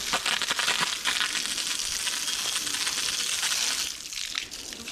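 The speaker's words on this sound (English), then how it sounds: "We're gonna hose it off and see how well this stuff works" Water from a hose sprays steadily onto an engine stand coated in degreaser, a dense broadband hiss and splatter that runs close and constant, then thins slightly near the end.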